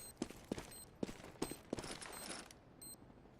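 Sharp gunshots in Counter-Strike on the de_dust2 map, about five quick, fairly faint cracks spaced roughly half a second apart, with clattering in-game noise around them.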